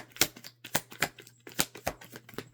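Playing cards are shuffled close up in a series of quick, crisp riffling bursts, each separated by brief pauses, with a low hum underneath.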